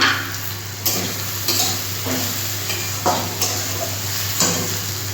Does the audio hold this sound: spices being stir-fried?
yes